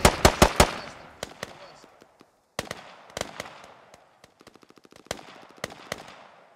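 Grenade detonations and crackling gunfire in a tactical shooter match, sharp separated bangs followed by rapid rattling bursts with quiet gaps between.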